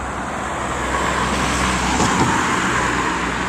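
A car drives past on a road amid steady traffic noise, a broad continuous rush that swells slightly toward the middle as the vehicle goes by at moderate distance, with no talking.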